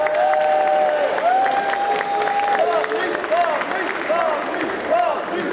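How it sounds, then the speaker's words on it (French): A crowd at a cosplay contest prize-giving claps and cheers continuously and fairly loudly, with whistles and shouts rising over the applause and a voice heard through it. "je vais vous demander d'applaudir Arkel et Fabrice"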